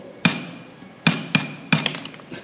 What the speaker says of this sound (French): avec le petit marteau, pas sur les doigts, moi je les enlève, tu cassais donc la noix de muscade